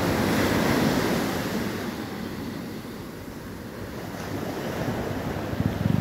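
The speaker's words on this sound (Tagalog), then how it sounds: "Dito dinagsa ng malakas na alon." Strong ocean waves wash onto a littered shore in a loud, continuous surf roar with wind buffeting the microphone, swelling slightly near the end.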